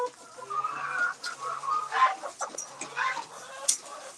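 Several farm chickens and a rooster cluck and squawk in overlapping bursts at close range, a busy, agitated chatter of the flock.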